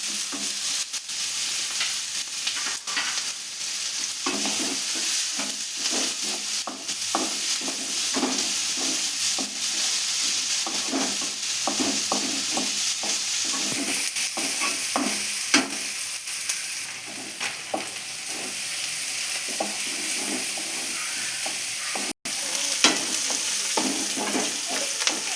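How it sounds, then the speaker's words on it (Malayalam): Onions with a pinch of salt sizzle steadily in a pan while a spoon stirs them in repeated scraping strokes. The sound is close and continuous, and no one speaks. "ഇപ്പം ലേശം ഉള്ളി വാടാൻ വേണ്ടിയിട്ട് നമ്മളൊരു ശകലം ഉപ്പും കൂടി ഇട്ടിട്ടുണ്ട്."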